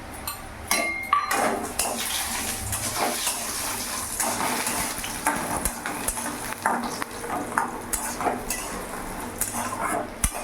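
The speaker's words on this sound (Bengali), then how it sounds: "তো বড়িটা আমি পুরোটা ভেজে নেব" Small store-bought lentil dumplings (bori) fry in hot oil for a vegetarian bottle-gourd dish, a constant crackling sizzle with frequent knocks and scrapes of a utensil against the pan, close and moderately quiet.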